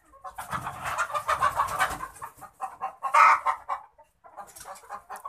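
Shaver layer hens cluck and chatter on a poultry farm, with a steady stream of overlapping close clucks and one louder squawk partway through.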